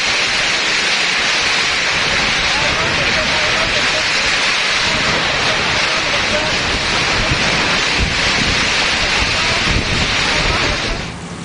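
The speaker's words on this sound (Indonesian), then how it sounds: "rusak diterjang angin kencang dan hujan deras pada Kamis sore" Strong wind and heavy rain sweep through an Indonesian area on a Thursday afternoon, a loud continuous roar of gusts buffeting the microphone over dense rainfall, steady throughout before easing slightly at the end.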